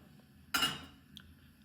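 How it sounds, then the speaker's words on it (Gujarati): A metal cooking pot is set down on a gas stove, making one faint, quick clank with a short metallic ring in an otherwise quiet kitchen. "જો તેના પર આપણે તપેલી મૂકી દીધી છે"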